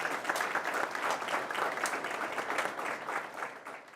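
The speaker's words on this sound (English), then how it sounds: "Let's give a round of applause" An audience gives a round of applause at a soccer talk event. The clapping is dense and steady, with a slight fade toward the end and no speech over it.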